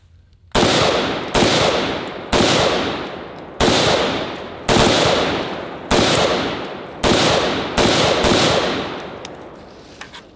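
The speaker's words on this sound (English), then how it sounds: "I actually haven't shot this gun in quite a while" A rifle fires nine loud, sharp shots outdoors at roughly one-second intervals, each crack followed by a decaying echo that rings until the next shot.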